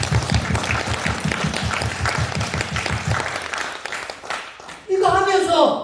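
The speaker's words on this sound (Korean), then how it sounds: "우리 박수 한번 치겠습니다." An audience in a Christian cultural gathering in Gyeongnam bursts into sustained applause, dense rhythmic clapping for several seconds that fades, then someone speaks over a microphone.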